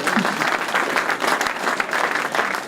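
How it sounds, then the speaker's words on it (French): A crowd at a rally podium ceremony applauds steadily and fairly close, with dense clapping and some raised voices mixed in throughout. "vous pouvez l'applaudir"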